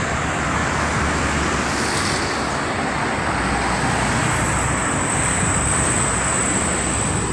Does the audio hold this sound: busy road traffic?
yes